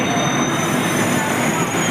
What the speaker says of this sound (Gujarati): मेट्रो ट्रेन आ चुकी है